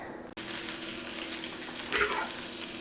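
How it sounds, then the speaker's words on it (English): Turkey burger patties frying in a small pan: a steady, bright sizzle that bursts in suddenly and keeps crackling throughout, with a brief louder hiss partway as the meat shifts, close and without talk. "while my burger's cooking"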